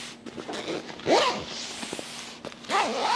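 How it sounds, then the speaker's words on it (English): Zipper pulled around a waxed wood Mystery Ranch 3 Way Briefcase in several close, rasping strokes, each a rising zip with brief pauses between pulls. "let's go ahead and zip it up."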